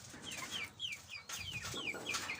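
Chickens cluck in a coop, a busy overlapping chorus of short descending calls from several birds at close to middle distance, steady and fairly quiet, with no voices.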